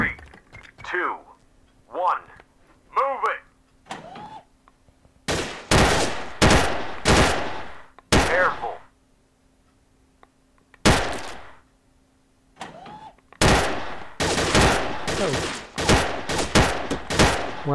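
Allied SMG 26-40 submachine gun firing in the Gun Club VR shooting game, with rapid automatic bursts of varying length separated by pauses, loud and close, alongside someone speaking between volleys.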